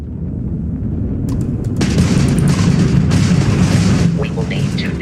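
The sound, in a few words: enemy Crimson Fleet ship firing weapons in the video game Starfield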